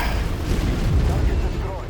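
Explosion in the video game MechWarrior 5: Mercenaries as a target is destroyed. It is a loud, rumbling, sustained blast with heavy low-end roar that slowly fades, with a voice mixed in.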